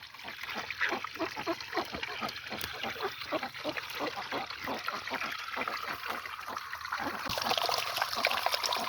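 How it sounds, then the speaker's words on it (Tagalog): Water runs through a float valve into a PVC duck waterer, a continuous close trickle with a pulsing, gurgling rhythm that grows slightly louder near the end. "The water is flowing"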